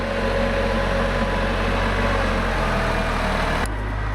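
Tractor engine running steadily at a rural RV property, a continuous low rumble close by, shifting pitch briefly near the end.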